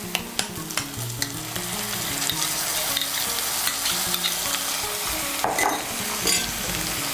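A spice paste mixed with yogurt fries in a pan with a dense, close sizzle. It is stirred throughout, with scraping knocks running over the steady hiss.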